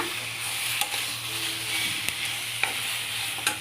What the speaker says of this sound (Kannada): ಇದ್ರ ಜೊತೆ ಒಣಮೆಣ್ಸಿನ್ಕಾಯಿ ಹಾಕೊಂಬಿಡೋಣ